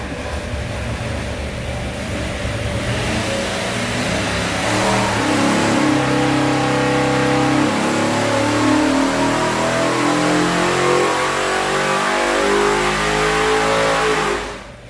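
A Ford 408 Cleveland 3V V8 with a hydraulic roller cam, on a dyno, revs hard with a loud, steady roar that climbs toward 6,500 rpm and keeps pulling before it cuts off abruptly near the end.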